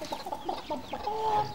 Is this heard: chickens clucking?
yes